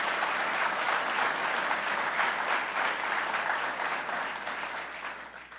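Steady, dense applause from an audience honoring Buffalo first responders at a state recognition event, loud and sustained, tapering slightly at the end with no talking over it.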